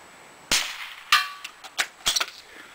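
Several sharp rifle shots from a Mossberg Model 44 bolt-action .22, with metallic ringing as a steel gong is hit at 100 yards. The bursts come at uneven intervals, with a quick cluster near the end, outdoors and close to the shooter.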